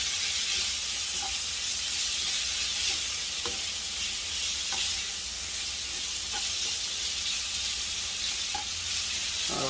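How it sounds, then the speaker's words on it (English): Vegetables for lo mein sizzle and hiss steadily in a hot frying pan, a constant close crackle with occasional faint clicks and stirring taps, no voices. "I'm going to let them fry down some more"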